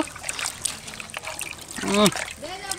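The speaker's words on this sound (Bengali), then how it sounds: "আজকে আমার দায়িত্ব পড়েছে খাসি মাংসটা ধুতে হবে ঠিক করে" Water trickling and splashing as goat meat is washed, close and intermittent, with a voice speaking over it.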